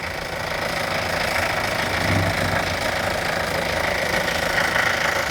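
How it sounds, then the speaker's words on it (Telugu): A Honda Amaze diesel car engine idles steadily up close, a constant low rumble with a rhythmic knocking clatter and no voices. "డీజిల్ ఇంజన్ పర్ఫెక్ట్ ఉంది సౌండ్ సార్ మీరే చూసుకోవచ్చు"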